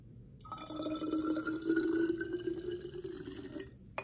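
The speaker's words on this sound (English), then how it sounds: "let's add some water to it and see how it looks" Water poured from a container into ferrofluid in a glass, a steady close trickling pour with rising pitch as the glass fills, lasting about three and a half seconds with no talking.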